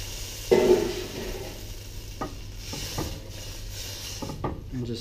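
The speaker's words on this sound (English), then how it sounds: "and just stir that through." A spoon stirs tinned tomatoes and two litres of beef stock in a pot for a lamb shank ragu, giving soft wet sloshing with a few light scrapes and knocks against the pot, alone with a low steady hum beneath.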